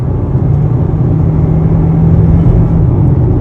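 A 2015 Hyundai Tucson engine accelerating, a loud, steady low drone heard from inside the car with a slight rise in pitch, no talking.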